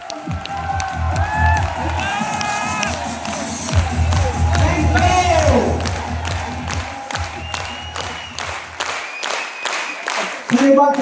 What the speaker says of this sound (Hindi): सबसे पहले खड़े होकर के